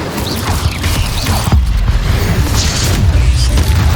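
Incendio fire spell cast in Hogwarts Legacy, a deep booming burst with crackling mechanical clatter and whooshes layered over continuous loud game action, no voices.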